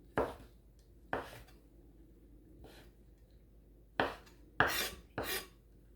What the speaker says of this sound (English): So I cut it in half, as many slices as I can, then I'll turn it on the other side,